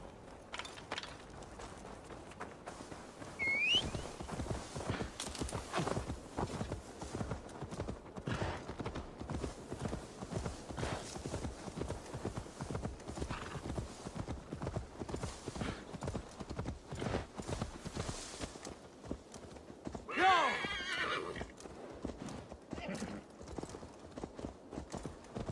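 A horse in Assassin's Creed Valhalla walks with rhythmic clip-clop hoofbeats throughout, and a whinny breaks out around the two-thirds mark.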